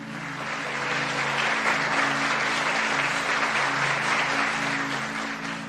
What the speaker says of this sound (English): So can we clap?